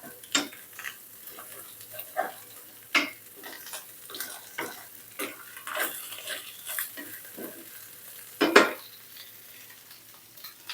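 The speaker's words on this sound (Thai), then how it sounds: "พัดให้กระลำปียุบสักนิดนึงค่ะ" Cabbage and glass noodles being stir-fried with egg and wood ear mushroom in a pan, with a soft low sizzle under sharp, intermittent scrapes and taps of a spatula, one louder clatter near the end.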